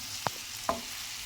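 Egg and capsicum with pepper powder are stirred in a pan, two quick scraping strokes over a faint steady sizzle.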